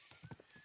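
A horse's hooves clop in the video game Kingdom Come: Deliverance II, several quick, faint hoofbeats in an uneven rhythm within under a second.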